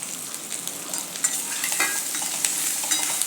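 Cooked jowar breakfast mixture being sautéed and stirred in a pan with masala and fresh coriander, a steady soft sizzle broken by frequent scraping and clicking strokes of the spoon, close and moderately loud with no talking.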